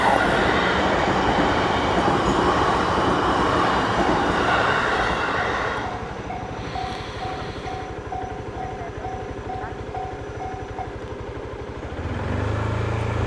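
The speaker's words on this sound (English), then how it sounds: "You guys ready for a choo-choo? It's gonna come from the left." A train passing by in Tokyo, a loud, steady rolling rumble of wheels and carriages that fills the whole stretch, easing slightly partway through with a faint tonal whine, and no talking.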